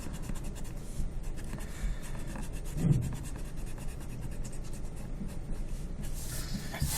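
Pencil marks rubbed off paper with an eraser, a quiet continuous scratchy rubbing with a slightly louder stroke partway through, heard alone in a still room.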